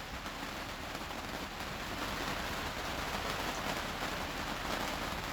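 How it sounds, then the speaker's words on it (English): Steady outdoor rain falls in a soft, even hiss of countless drops on surfaces, continuous and unbroken with no voices. "Hope you can hear me over the rain"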